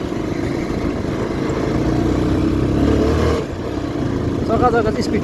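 A motorcycle engine hums steadily while riding over a rough, dusty, potholed road, with wind and road rumble that drop off partway through, and a person speaks near the end.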